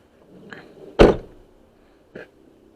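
Rear door of a 2002 Ford Ranger XLT with a 4.0 automatic, 2WD, unlatching and swinging with a solid close-range thunk, preceded by faint handle rustle and followed by a short click.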